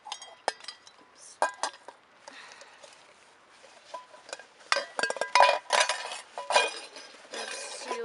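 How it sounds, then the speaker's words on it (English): A camping mess kit cup, bowl and spoon being packed into a stuff sack: scattered light clinks and rattles, then fabric rustling and a cluster of louder knocks and jangles close by. "So I'll get my cup, bowl, and spoon in there"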